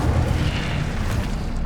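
The Incendio fire spell cast in Hogwarts Legacy erupts as a continuous deep, booming roar of flame, loud and rumbling throughout with no voices over it.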